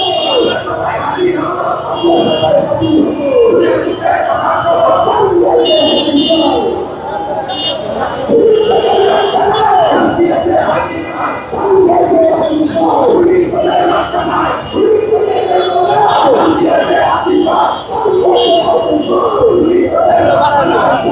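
Protest crowd at a street demonstration in Bangla Motor, Dhaka, chanting slogans in a loud, continuous collective roar with rhythmic rises, close and dense throughout.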